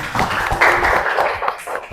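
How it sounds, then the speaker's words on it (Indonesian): A classroom of schoolchildren gives their classmates a round of applause, a dense patter of small hands clapping close by for about two seconds with no talking over it. "Coba beri tepuk tangannya untuk teman-teman."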